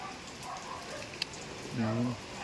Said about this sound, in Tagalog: Lakas ng ulan dito sa amin.